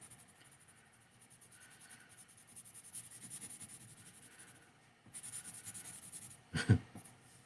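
Drawing tools scratch and rub steadily across paper while a sketch is colored in, a soft, close, continuous scratching in quick strokes that ends with a couple of sharper taps.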